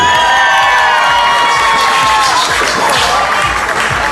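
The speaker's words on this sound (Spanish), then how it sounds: "Un fuerte aplauso por ese público presente." Audience applause and cheering from a crowd, a steady loud wash of clapping with shouts and whoops mixed in, filling the whole stretch without a break.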